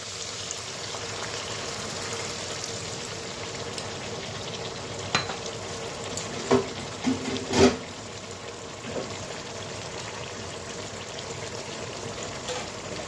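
Gulsha Tangra fish frying in a pan after a little water goes in, a steady low sizzle throughout with a few brief clatters and bumps midway; no talking.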